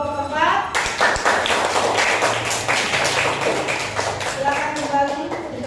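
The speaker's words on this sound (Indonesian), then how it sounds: "Tepuk tangan buat kelompok keempat." A classroom group claps for the fourth group after its presentation in a teacher-training session. The clapping is quick, close and sustained for several seconds, with voices audible at the start and end.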